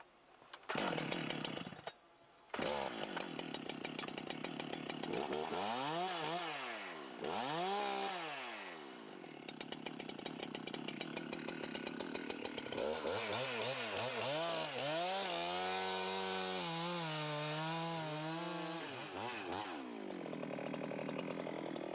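A chainsaw cuts out a large undercut in chunks while felling a big tree, its engine revving up and down in repeated surges between cuts, loud and close, with a brief idle dip early on.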